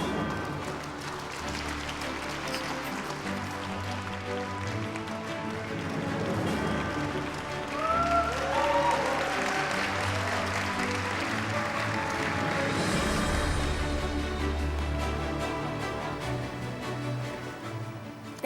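Audience applause at the 59th Grand Bell Awards ceremony as a presenter is welcomed for the Best New Actress award, a steady wash of clapping that swells midway and holds over a low hum and faint voices.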